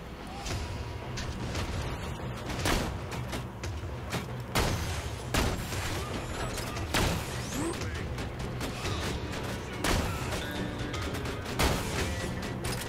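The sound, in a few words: sniper rifle shooting a wall in Borderlands 2 (video game)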